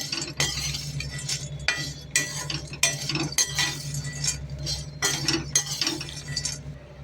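Turkey berries (sundakkai) dry-roasting in a pan, with busy clinking and scraping of a spoon stirring them, in irregular bursts close by over a faint steady hum.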